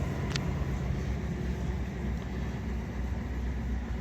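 A V8 Ford Explorer engine idles with a steady, loud low rumble that continues without a break, and a brief click comes early on.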